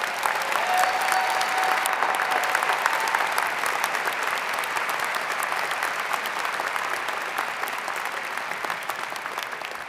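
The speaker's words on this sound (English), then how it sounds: "So would you please join me in a big thank you round of applause for all that Kathy's done here?" A large audience at a Michigan Ross business school commencement ceremony applauds in a thank-you round, a thick, even wash of clapping sustained for the full ten seconds with faint crowd noise underneath.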